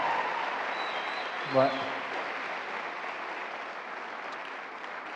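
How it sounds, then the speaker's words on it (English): An audience at a school convocation applauds, a steady, even wash of many hands clapping throughout, with a brief spoken word breaking through partway. "Now you can clap."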